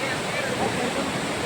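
Seethar Kund waterfall pours in a continuous, even roar of falling water, a brief close broadband rush with no breaks.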